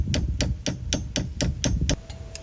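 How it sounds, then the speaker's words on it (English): Eight sharp hammer blows ring out on a bent metal washer in a steady, quick rhythm, close and loud, followed by a brief pause. "So out comes the hammer."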